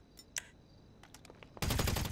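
Gunfire in the GTA V Online video game: a sharp report or two early on, then a loud dense burst of rapid shots near the end, standing alone without talk.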